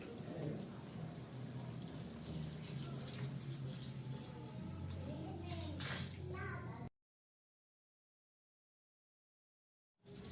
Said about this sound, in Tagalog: lalagyan ko na po ng tubig.